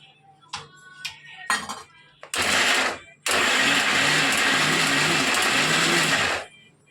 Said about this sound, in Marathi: 2 वाटी कॉर्न आपण मिक्सरला ओबडधोबड वाटून घ्यायचे